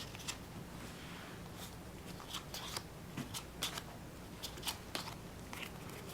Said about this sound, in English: each player draws their hand up to 6 cards